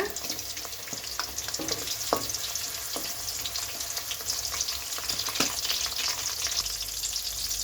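Onions, mint and whole spices fry in a pan with a steady soft sizzle, punctuated by occasional scrapes and clinks of stirring, close and fairly quiet, without speech.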